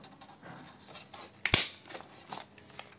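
A single sharp snip of scissors through paper, close and fairly loud, amid quiet rustling.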